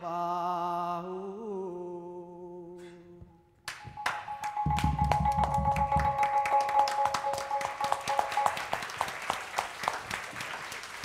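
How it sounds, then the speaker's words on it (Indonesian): An audience applauds after an Institut Tinggang Borneo Theater stage performance, a dense, steady patter of many hands that begins abruptly after sustained musical tones and continues strongly to the end. "Boleh tepuk tangannya sekali lagi untuk Institut Tinggang Borneo Theater"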